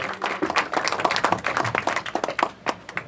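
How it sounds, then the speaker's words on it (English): A church congregation clapping during a Sunday service testimony time, a loud, fairly close burst of irregular handclaps with faint voices mixed in. "Oh, clap unto the Lord."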